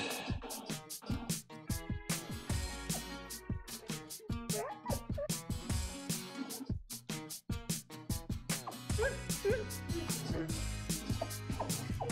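A puppy yips, barks and whimpers in the Barbie & her Sisters Puppy Rescue video game, short repeated yaps scattered over busy game music.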